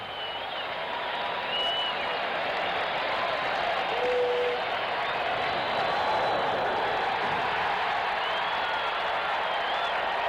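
A baseball crowd at a Mets home game against the Giants rises to its feet and applauds Dwight Gooden's strikeout effort, sustained loud clapping and cheering that swells across the stadium with scattered whistles and whoops.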